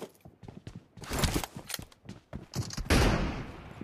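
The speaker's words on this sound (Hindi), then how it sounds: "nice shot this is my first shot" Bursts of automatic gunfire in PUBG: Battlegrounds during a team deathmatch, sharp cracking shots in quick rapid runs with short gaps, ending in a louder sustained volley, with no voices.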